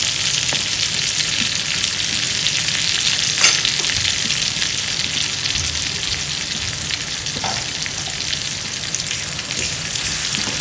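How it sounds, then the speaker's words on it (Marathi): Spices and garlic sizzle and fry steadily in a hot pan with a constant bright crackle, loud and close, with a few stirring scrapes and no talking. "तर मसाले आपण चांगले हे परतून घ्यायचे"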